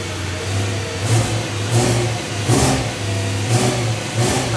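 A car with individual throttle bodies revs hard through its stock exhaust: four or five sharp, loud blips, evenly spaced over a steady idle, with no talking.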